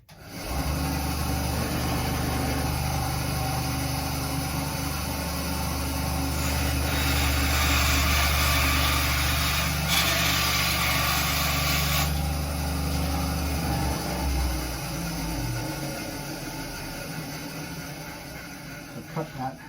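A guitar nut blank being cut to size for a PRS Bernie Marsden SE produces a steady, close power-tool whine and grinding noise lasting throughout, with a spoken voice under the noise.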